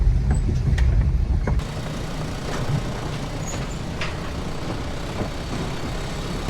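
Vehicles rumble across an old single-lane wooden bridge in Skardu, one at a time; a loud broadband engine and tyre rumble dominates the opening seconds, then eases into a steadier, softer drone with no talk.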